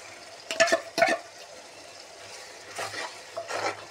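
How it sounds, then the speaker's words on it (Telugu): Fresh grated coconut stirred and frying in a pan for a Vanjaram fish curry, with a few scraping strokes and a soft sizzle running underneath, close and alone. "ఇప్పుడు పచ్చి కొబ్బరి కూడా వేసేసుకోవాలండి."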